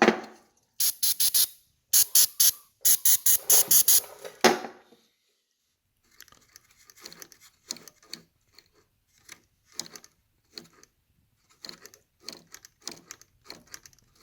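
An aerosol can sprays onto the auto choke of a surging Toro 190cc lawn mower in several short, close hissing bursts, followed by quieter scattered clicks and rubbing handling sounds.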